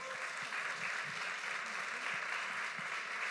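An audience at a prize-giving ceremony applauding, a dense, steady wash of clapping from a crowd that continues throughout at moderate distance.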